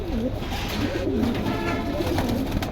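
Pigeons cooing close by, soft repeated rolling coos overlapping one another over a continuous background hum, with no speech.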